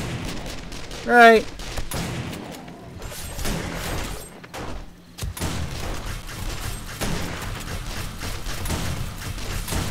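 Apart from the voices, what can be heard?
gunfire shots in the video game 7 Days to Die (Alpha 18)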